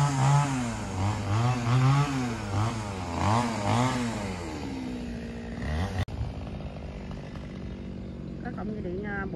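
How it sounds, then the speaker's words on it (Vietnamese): A chainsaw buzzes steadily while cutting a large, many-branched double Sao tree near electrical wires. Someone talks loudly over it throughout, and the saw carries on faintly alone near the end. "Bây giờ anh Sang bắt đầu leo lên mở dây điện và cưa luôn cả nhà"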